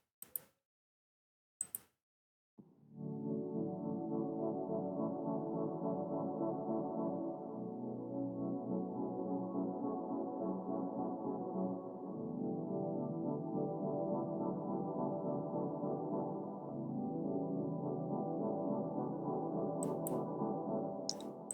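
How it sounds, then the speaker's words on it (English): UFO keys synth patch from Ultra Analog, EQ'd with the lows cut, a steady mid-range sustained chord pad that holds for about twenty seconds after a couple of brief clicks, moderately quiet and alone. "It is the UFO keys from Ultra Analog"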